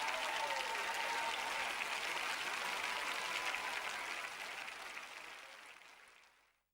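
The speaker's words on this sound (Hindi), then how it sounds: "चलो तो अब जोर से ताली बजाओ, जोर ले बजाओ ताली भाई।" Church congregation clapping loudly together, a dense, sustained round of applause at moderate distance that fades out gradually over the last couple of seconds.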